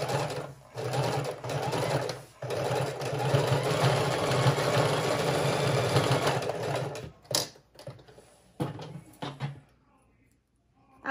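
A sewing machine runs a zigzag stitch across a fabric junk journal cover, a steady close mechanical whir for about seven seconds, then several short stop-start bursts before falling quiet.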